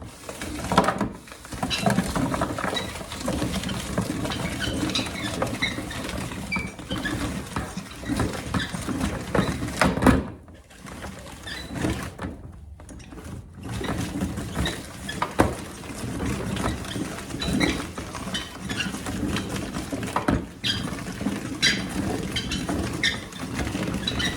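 A hand-cranked grinder crushes apples for cider in a woodshop, with a steady crunching, grinding clatter running continuously near and loud, broken by a couple of brief pauses.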